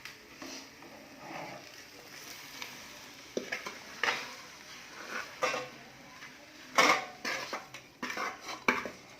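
Utensils scrape and clink against a pan and plate as fried eggs are lifted off after the stove is switched off, with a light sizzle fading under scattered metallic taps, close and alone without talk.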